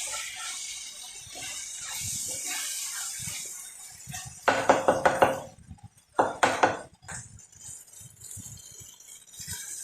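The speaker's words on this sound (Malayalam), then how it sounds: "ഒരു നെല്ലിക്ക വലുപ്പത്തിലുള്ള വാളംപുളി നല്ലപോലെ പിഴിഞ്ഞിട്ട് ഒഴിക്കുക." Squeezed tamarind water poured into a curry in a kitchen, a run of splashing, clinking pours in two short bursts near the middle, with quieter handling noises before and after.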